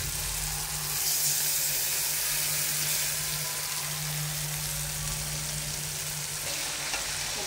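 Shrimp sizzle in a hot pan, a loud steady frying hiss that continues without a break, close up and with no talking.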